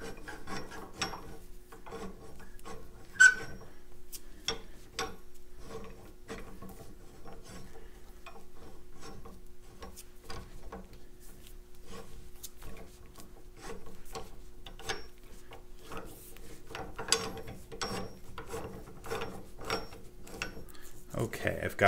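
A screw being driven into a LoboJack HS-21 padlock gives a run of small, close scraping and grinding rasps in a steady rhythm, with a brief louder knock early on and a person talking quietly.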